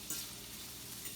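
Onions cook in a pan with a steady, soft sizzle and faint stirring, a quiet, even frying hiss without talk.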